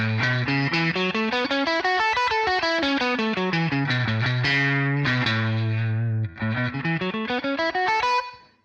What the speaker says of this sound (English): now the major pentatonic will sound like this.